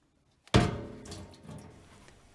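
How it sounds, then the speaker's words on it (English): A plastic dispenser drawer on a Hoover washing machine gives a single sharp knock as it is pulled out, followed by a softer sliding rattle that fades over about two seconds, close and alone. "just gently push on that and then pull the dispenser drawer out"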